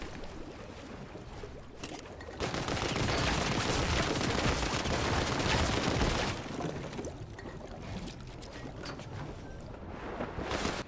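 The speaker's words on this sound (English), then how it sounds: "I'm being shot from over here now." Gunfire in the video game Fortnite, a dense burst of rapid shots swelling loud in the middle and tapering into scattered fire, with no talking.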